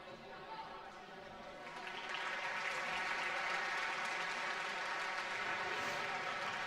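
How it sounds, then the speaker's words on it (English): Steady crowd applause fills a gym during a Woburn versus Lexington high school basketball game, swelling louder after a couple of seconds and holding as a broad wash under a commentator's voice. "as you can hear the applause for Doyle post-injury and Zeke"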